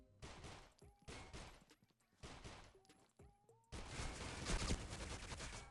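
Pistol fire from a P250 in the game Critical Ops, several dense bursts of rapid shots separated by short pauses, ending in a longer sustained volley.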